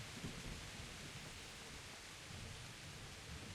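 Steady rain and distant thunder in the medieval video game Kingdom Come, a faint, even hiss of rainfall with low rumbling underneath and no talking.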